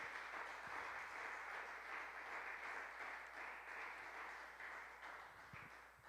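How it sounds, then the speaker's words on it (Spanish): Congregation applause during a Spanish-language church service, a steady continuous wash of clapping that holds for about six seconds at moderate level, thinning slightly toward the end. "Dale un aplauso al Señor en esta tarde."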